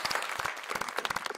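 An audience at a live conference assembly applauds in a short, fairly faint burst of mixed hand claps, heard from a distance.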